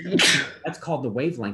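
One loud, close sneeze in a chemistry lecture hall, a sharp burst that leads straight into the lecturer's continued speech.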